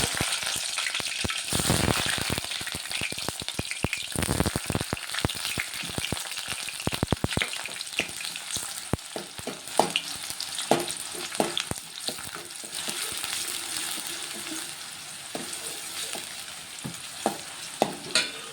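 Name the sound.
chopped onions frying in hot oil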